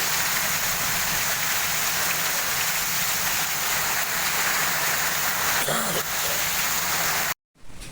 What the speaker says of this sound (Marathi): आता पाऊस ठरलेला आहे.